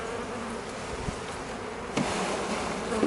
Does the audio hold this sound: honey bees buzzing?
yes